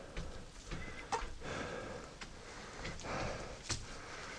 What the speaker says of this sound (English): You make weird sounds, chicken.